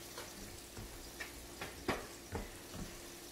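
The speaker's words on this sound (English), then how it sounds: "So we're going to let this fry for probably, I would say, 5 or 6 minutes" Pieces of chicken sizzle and fry in a pan for chicken Marsala, a soft steady sizzle broken by a few sharper crackles and pops, faint and close.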